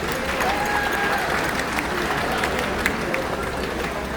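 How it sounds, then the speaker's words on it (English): A crowd of cruise ship elite members applauds in a broad, even wash of clapping that holds steady throughout, with murmuring voices blended underneath. "Give yourselves a nice round of applause."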